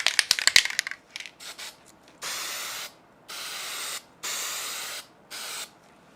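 Several hissing bursts from a spray can of finish coat, each lasting about a second, close up, after a quick rattle of the can being shaken.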